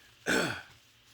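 A single short, forceful nose blow with a brief honking edge, close and loud, over quiet room tone.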